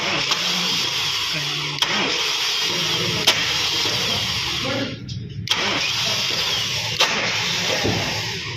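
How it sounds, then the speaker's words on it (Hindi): A car engine runs steadily during an injector check, a continuous mid-pitched drone with periodic ticks and one brief dip, and voices talk faintly underneath. "गाड़ी चल रही है"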